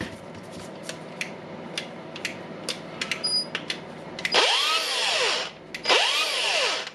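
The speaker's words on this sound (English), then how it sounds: "we have the Milwaukee Grinder" A Milwaukee brushless angle grinder struggles to start, giving a few clicks and handling noises before twice spinning up with a rising whine that quickly winds back down, close and fairly loud.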